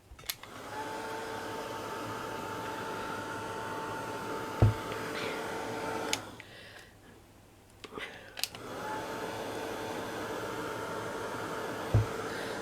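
A handheld dryer blows steadily over colored seam binding, a continuous close whooshing hum that cuts out briefly in the middle before resuming, with a few soft knocks.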